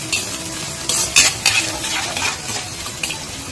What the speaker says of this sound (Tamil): நல்லா ஃப்ரை பண்ணிக்கோங்க.